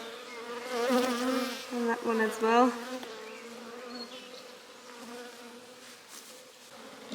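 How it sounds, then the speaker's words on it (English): Honeybees buzz steadily around an open hive during an inspection, a dense close droning swarm that swells and eases, while a person speaks briefly over it. "Oh, One's just appearing now, the bee."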